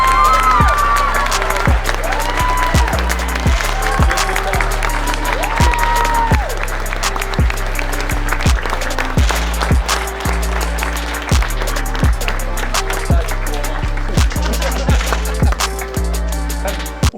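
Audience at the Top Model Europe 2025 show applauding a finalist with a long, dense burst of clapping, with whoops and cheers rising over it early on and loud, sustained clapping to the end.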